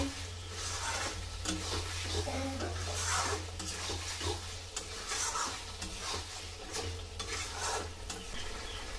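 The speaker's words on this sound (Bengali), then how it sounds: "ভালো করে কষিয়ে নিচ্ছি।" Chicken masala cooks in a pan, a spoon scraping and stirring through the thick mixture over a steady low sizzle of frying, with light clinks against the pan.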